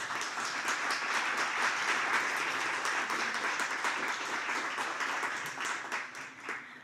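An audience gives a sustained round of applause at opening remarks for a pandemic recovery event, steady dense clapping from a room of people that holds level and then begins to thin and taper near the end.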